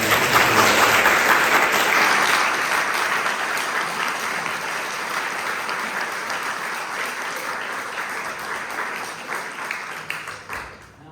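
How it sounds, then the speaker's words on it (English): An audience at a candidates night applauds the candidates, dense sustained clapping from a seated crowd that starts loud and slowly thins out over about ten seconds. "A round of applause for our candidates."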